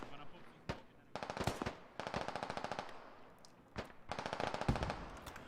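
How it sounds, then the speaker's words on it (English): Bursts of automatic gunfire in the military video game Squad, rapid rhythmic volleys of several seconds each broken by short pauses, with single sharp shots between them, heard at a moderate distance. "The gunfire's getting a lot more sporadic."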